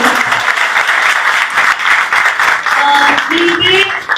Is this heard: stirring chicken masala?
no